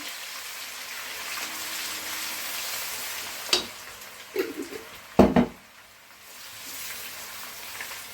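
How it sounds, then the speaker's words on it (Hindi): Ginger garlic paste fries in a pan with a soft steady sizzle, broken by a few short stirring clatters and scrapes toward the middle. "ज़रा सा अदरक लहसुन का जो पेस्ट है वो भुन जाएगा"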